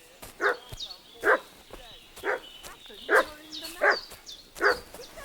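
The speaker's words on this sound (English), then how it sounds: "What's that dog making such a fuss about?" A dog barks again and again in the medieval role-playing game Kingdom Come: Deliverance II, sharp evenly spaced barks close by, with whimpering fuss between them over a quiet background.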